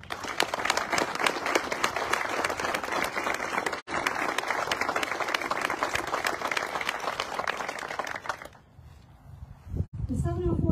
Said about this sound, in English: please join me in a round of applause and recognizing the talented soldiers